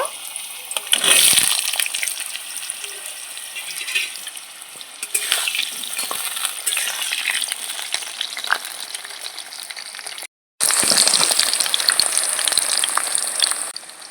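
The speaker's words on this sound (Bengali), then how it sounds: "আলুগুলো এখন আমি ভেজে নেব" Potatoes fry in hot oil in a wok, a loud, bright, continuous sizzle close by with rushing hiss that swells as pieces are moved, broken by a brief silent gap near the end.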